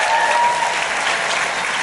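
A studio audience at a live election-results show in New York applauds loudly and steadily, a dense wash of clapping that fills the whole moment without a break.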